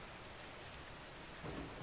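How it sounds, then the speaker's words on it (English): Long, steady rain pattering against a western window in an eighteenth-century Edinburgh room, a soft continuous hiss with no gaps, swelling slightly near the end. "The rain on the western window had eased a little, then thickened again, and was now a long, steady patter"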